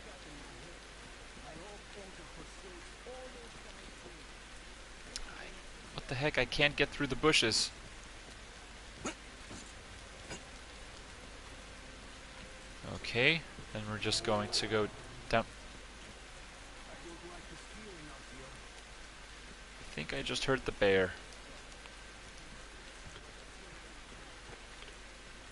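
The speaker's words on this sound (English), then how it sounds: "Started to rain." Steady in-game rain hisses throughout a Metro Exodus playthrough in the taiga, a constant soft wash under a man's intermittent speech.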